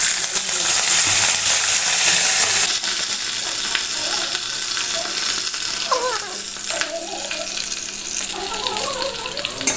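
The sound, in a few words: green chillies and curry leaves frying in oil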